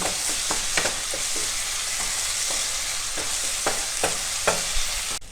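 Ginger and garlic frying in hot oil while being stirred steadily for pork ribs, a dense close sizzle broken by regular scraping strokes of a spatula against the pan.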